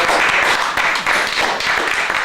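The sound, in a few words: applause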